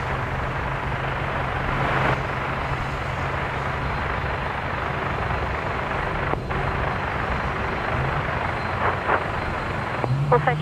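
A China Airlines airliner takes off from runway 01 left at Brisbane Airport. A steady distant engine roar holds throughout, under wind and faint background voices.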